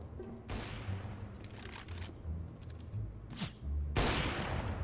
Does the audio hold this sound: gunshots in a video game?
yes